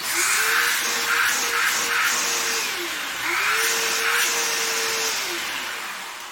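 A Bissell PowerForce bagged vacuum cleaner runs with strong suction at the hose after a clog and belt repair, giving a loud, steady motor whine with a rising and falling airflow pitch as the hose opening shifts, and no speech.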